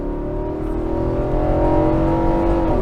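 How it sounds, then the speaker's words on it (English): A 2022 Nissan Armada with a 400 hp naturally aspirated V8 and seven-speed automatic accelerating: a loud, steady engine roar from inside the cabin, its pitch climbing gradually as the revs build. "Luckily we have a 400 horsepower naturally aspirated V8 and we're just gonna roll into it."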